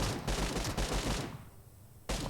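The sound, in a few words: gunfire in the video game PUBG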